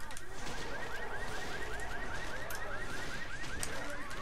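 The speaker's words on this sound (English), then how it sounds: "Watch out, some cars set off alarms." A car alarm in the video game Left 4 Dead 2 wails loudly with a rapid repeating rising whoop, continuous over a dense rumble of game noise.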